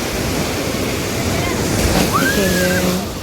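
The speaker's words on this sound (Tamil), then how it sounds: "பாண்டிச்சேரி பீச் இது" Ocean waves break and wash up on Pondicherry's ECR beach in a steady, loud roar of surf mixed with wind noise, with a faint tone rising briefly near the end.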